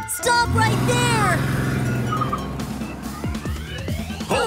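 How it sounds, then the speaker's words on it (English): A police siren from a children's cartoon song wails, its pitch sweeping up and down, loud and close, followed by a few quick sliding tones. "The police car is here."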